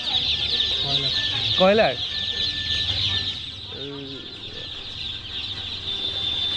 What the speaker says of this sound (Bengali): এগুলো কি দেশি মুরগির বাচ্চা?